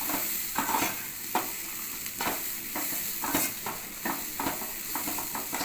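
Moong dal fry being stirred in a pan with coconut chili powder, a soft frying sizzle under repeated scraping strokes of a spoon against the pan, steady and close with no talk.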